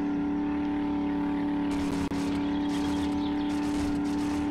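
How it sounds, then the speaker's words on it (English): Afterburner turbo boost on a vehicle in 7 Days to Die: a steady, loud engine drone with a strong tonal hum and a rushing hiss that swells partway through and keeps going to the end. "Hear the afterburner kicking in."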